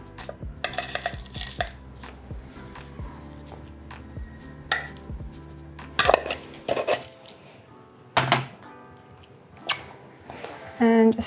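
Cauliflower pizza base being mixed with herbs, pepper and salt in a bowl, with repeated close clinks and scrapes of utensil against the bowl in uneven bursts, while a person talks at times.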